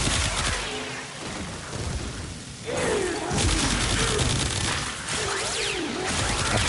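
Furis base secondary weapon from Warframe firing in rapid bursts of sharp, dense gunfire that pause briefly and resume, loud and close against a busy game-effects background.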